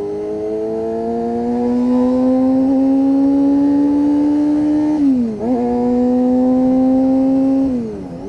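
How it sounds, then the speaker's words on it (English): A 1992 Honda CB motorcycle engine drones loudly and close while lane splitting, its pitch slowly climbing under steady throttle, then dipping briefly with a quick shift or throttle blip before rising again and easing off at the end. "when you've got a loud bike, people do hear you coming"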